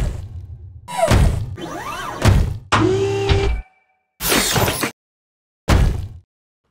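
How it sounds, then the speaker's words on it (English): Heavy mech footsteps in the video game Killzone Mercenary: mechanical thuds and clanks in separate bursts, mixed with hissing hydraulic whirs, loud and close, with short silences between them. "So when it's stepping, it's also playing a hydraulic sound."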